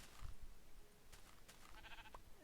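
Sheep in Minecraft bleat faintly a couple of times amid quiet game ambience and scattered small clicks.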